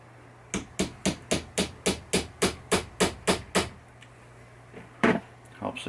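A hammer striking a punch to drive a part out of a 1973 Williams Travel Time pinball flipper assembly held in a vise: about a dozen close, sharp metallic taps in a steady quick rhythm, then a pause and two louder blows.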